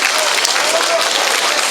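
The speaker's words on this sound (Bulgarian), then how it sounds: "Госпожо Тодорова, аплодисментите за вас!" A dense, loud burst of applause fills a hall at a Teacher of the Year awards ceremony in Dimitrovgrad, a continuous wash of many hands clapping at once with crowd noise mixed in.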